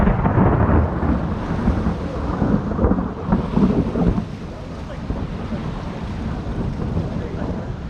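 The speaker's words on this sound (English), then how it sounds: "There's nothing quite as humbling as being the witness to a truly monumental thunderstorm." Thunder from a big thunderstorm over mountains and a lake rolls and rumbles loudly for about four seconds, then fades into a steady lower wash of rain and wind.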